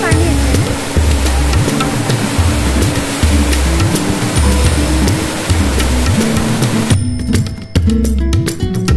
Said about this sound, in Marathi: झाड पडलंय आणि तिथून पाणी येतंय ना.